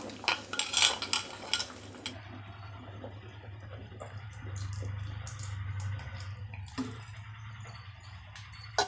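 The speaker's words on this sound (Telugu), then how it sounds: "నీళ్ళల్లో ఇలా కొద్దిగా పిండి మనం మిగిల్చుకున్నాం కదా దాన్ని ఇలా కలిపి ఈ పాయసంలో అయితే వేసేద్దాం" A spoon stirring a flour and water mixture into payasam in a metal pot, with quick clinking scrapes at first, then a softer steady swirl and a few scattered taps, close up.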